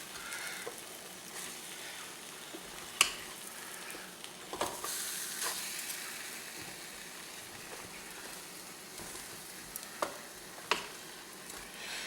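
Chicken fried steaks being flipped in a T-Fal Actifry air fryer, giving a steady low sizzle and fan hiss with a few sharp clicks and clatters of handling spread across the stretch.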